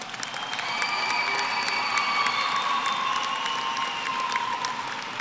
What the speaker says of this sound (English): Please give a round of applause for all the high school graduates of Colorado Springs High School and Palmer High School